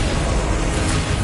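A brief, loud burst of rumbling explosion noise from a Confringo blasting spell in the Hogwarts Legacy video game, steady and broadband with no pause or voices.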